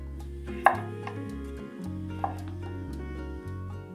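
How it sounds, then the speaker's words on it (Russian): A few knife cuts slicing potatoes into large pieces on a board, a sharp chop then a softer one, under steady background music. "4 больших картофелины нарезаю вот такими крупными ломтиками."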